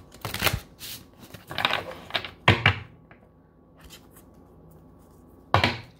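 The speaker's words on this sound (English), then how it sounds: "Four shuffles." Tarot cards are shuffled by hand in a few short, crisp riffling bursts separated by quiet pauses, the last burst coming after a longer gap; the shuffling sounds close and fairly soft.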